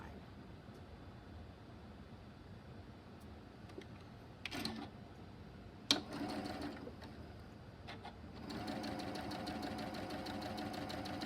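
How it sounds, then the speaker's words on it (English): A sewing machine stitches a quilt block for a sunflower quilt, its rapid mechanical whir running steadily and fairly faint, broken by a few sharp clicks before the stitching picks up to a busier, louder run. "now I'm going to come back and sew on the other line"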